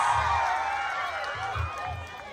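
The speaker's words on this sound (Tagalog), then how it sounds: "Malakas ang palakpakan, sigawan pa sa buong Batangas!" A political rally crowd at the Batangas provincial capitol applauds and cheers, a broad roar of voices and clapping that holds steady for a couple of seconds beneath a loud amplified announcer.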